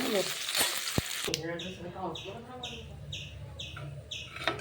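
Onions frying in coconut oil while being stirred give a brief, dense hiss in the first second, then the sizzle fades under repeated high bird-like chirps.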